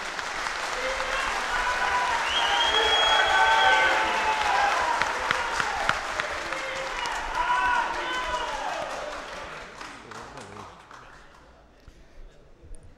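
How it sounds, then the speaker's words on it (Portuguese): An audience at a public meeting gives a deputy a sustained round of applause. Many hands clap steadily for about ten seconds in a large, lively room, then the clapping fades away. "salva de palmas aí para o deputado Davidson Magalhães"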